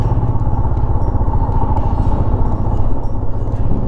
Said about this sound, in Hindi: स्लोप में बाइक चलाना थोड़ा दिक्कत होता है, कोई सी बाइक हो दिक्कत होती है।